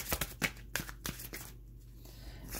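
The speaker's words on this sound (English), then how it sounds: "so it's so hard to shuffle" A small deck of tarot cards being shuffled by hand, a quick series of soft riffling flicks and taps close by, then a quieter pause, at low volume.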